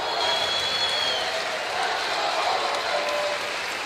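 Arena crowd at a college basketball game, Valparaiso against Oakland, applauding steadily in a broad wash of clapping that holds even and loud throughout, with some crowd murmur beneath.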